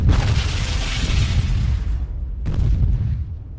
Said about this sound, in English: Off to the east, an explosion rings out on the buildings next to the Iacon Hub.